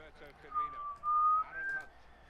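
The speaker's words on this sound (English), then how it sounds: "I whistle when I concentrate" A person whistles a wavering tune while playing FIFA 14 Ultimate Team, the whistle rising across a couple of seconds over faint background talk and game noise.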